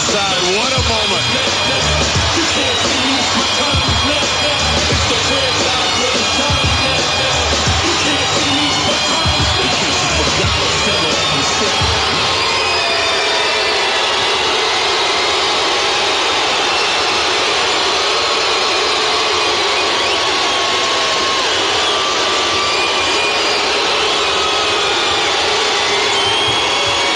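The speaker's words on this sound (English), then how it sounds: "They're a lively crowd here tonight." A lively wrestling crowd cheers at the Slammys awards show, a constant loud roar of many voices that stays thick and unbroken, slightly heavier at first and then settling into a steady, sustained din.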